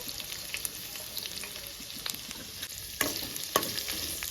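Thinly sliced onions fry in a pan for chicken donne biryani, a steady close sizzle with occasional scraping stirs and clinks.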